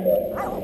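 A dog on a rainy Pacific Northwest bikepacking trail gives a single short, close bark or yip, lasting under a second against a steady outdoor background.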